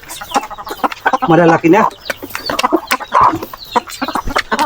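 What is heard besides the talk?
turkeys on a farm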